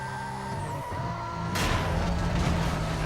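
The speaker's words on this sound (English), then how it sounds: "As I run into the back of a dump truck." In Need for Speed: Most Wanted (2005, PS2), a car's steady engine hum gives way to a sudden loud crash as it slams into the back of a dump truck, followed by a rough, noisy scraping aftermath.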